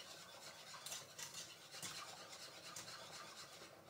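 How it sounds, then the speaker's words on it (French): A spoon stirs béchamel sauce in a pan, giving soft, faint scraping and rubbing strokes that repeat in a loose rhythm, with no voices present. "Je continue, je remue."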